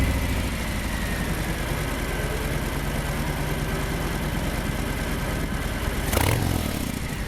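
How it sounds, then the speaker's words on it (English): Stock exhaust of a 2018 Harley-Davidson Fat Bob motorcycle idling, a steady, low, even rumble held close and continuous throughout, with a brief louder blip near the end. "let's kick things off with a stock exhaust comparison. The 2018 is up first,"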